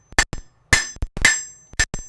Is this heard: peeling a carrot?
no